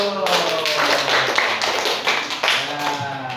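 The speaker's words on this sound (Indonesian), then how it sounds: "Kasih tepuk tangan dulu." A classroom of children applauds together, a steady dense patter of hand claps close by that holds for a few seconds, with some voices mixed in.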